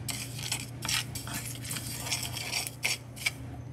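Quiet crackles and light ticking pops over a low steady hum, scattered irregularly as quinoa grains pop while roasting in a hot pan.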